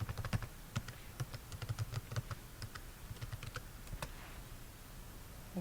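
Rapid, close clicking of keys on a computer keyboard, with irregular bursts of light taps over a faint background hum.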